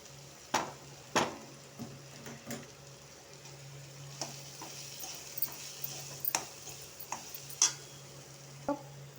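Sautéed coconut stirred into onion rice in a pan: soft scattered clicks and taps of a spoon against the pan over a faint low sizzle and steady hum, fairly quiet throughout.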